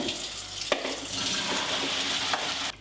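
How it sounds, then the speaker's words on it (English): Pasta water being drained from a pot after cooking, a steady broadband rush and splash of pouring water lasting nearly three seconds, with a couple of sharp clanks of the pot, then cutting off abruptly. "So you drain your pasta."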